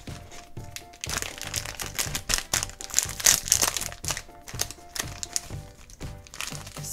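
Crinkly tearing and crunching of plastic blind-bag toy packaging as a tear strip is pulled open, with sharp irregular rips and rustles close by.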